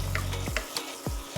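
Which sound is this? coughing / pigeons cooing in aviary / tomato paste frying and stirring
tomato paste frying and stirring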